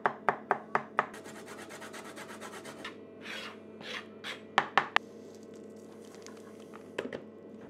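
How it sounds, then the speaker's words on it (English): Garlic being grated by hand, giving a quick run of rasping strokes at the start, then scattered scraping strokes and a few sharp taps close up, with no talking. "Peel and grate the garlic, or use press, zest the lime, and cut into wedges."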